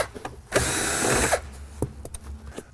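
Power drill backing out screws from the dash of an Acura Vigor, one close whirring burst under a second long followed by small clicks and handling noises.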